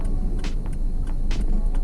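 A car drives along a road at night, turning right and braking, with a steady low rumble of engine and road noise and a few brief brighter swishes. No voices.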